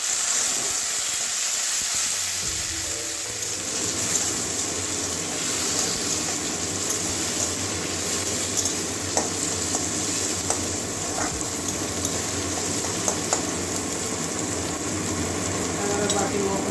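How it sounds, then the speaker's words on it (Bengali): Chopped tomatoes sizzle and hiss steadily in a spiced pan for a Bengali long bean and potato curry, a continuous close frying sound with faint clinks, heard alone. "এবারে টমেটো কুচি দিয়ে দিচ্ছি"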